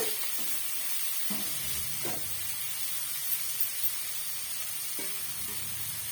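Idli upma ingredients sauté in a hot pan with a steady, even sizzle, broken by a few soft scrapes and taps of a spatula stirring through them.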